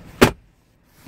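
A car door or compartment lid on a Land Rover Discovery is slammed hard once, giving a close, heavy thud followed by quiet.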